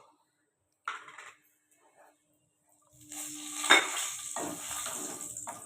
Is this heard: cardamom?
yes